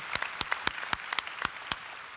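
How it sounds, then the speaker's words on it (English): Sparse, scattered handclaps from a small conference audience in Seoul, about nine crisp distinct claps in two seconds, fairly quiet and close, with no voices. "round of applause for South Korea for that"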